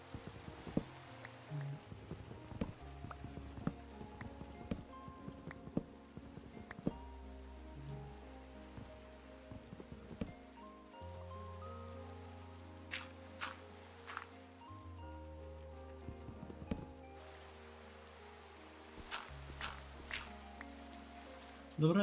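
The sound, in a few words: rain falling in video game Minecraft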